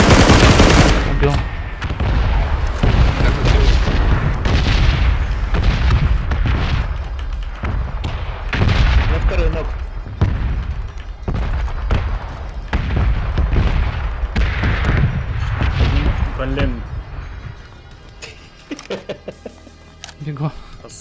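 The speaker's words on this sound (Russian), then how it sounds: "Это впереди выстрелы, Сань." Heavy gunfire in the battle game PUBG, with bursts of automatic shots and loud booms crowding the first seventeen seconds, then fading to a few sparse distant shots, while players talk over it.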